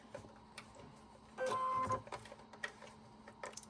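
A short burst of a sewing machine stitching elastic at a 5 mm stitch length, lasting about half a second, fairly faint amid light clicks and handling noise.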